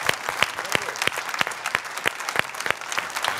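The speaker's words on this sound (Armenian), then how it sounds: "որին շատ տեղին է ծափահարել" An audience claps in rhythmic, even beats at an Armenian performance or event, fairly close and steady, with no talk over it.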